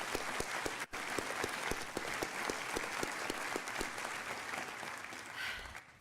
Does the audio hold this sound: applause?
yes